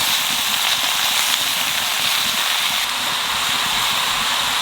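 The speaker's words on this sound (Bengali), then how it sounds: "এইবার লাউটা একটু ভাজিয়ে নেব" Bottle gourd fries in a pan, giving off a steady, fairly loud hissing sizzle that continues unbroken from start to finish.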